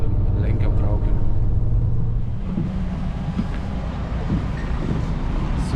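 A passenger train ride, steady low rumble and rolling clatter from inside the carriage, continuous and moderately loud throughout.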